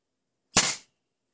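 A CO2-powered foam dart blaster fires a single dart at about 25 pounds of pressure through a short barrel, giving one sharp, close pop with a brief hissing tail in otherwise silent surroundings.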